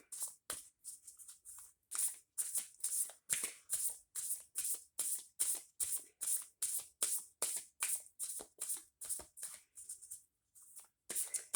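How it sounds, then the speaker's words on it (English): Moonology Oracle cards riffle-shuffled by hand, about two dozen crisp rapid riffles in a steady rhythm with short pauses, close and quiet with no talk. "I am going to pull some Moonology Oracle cards to close this reading off."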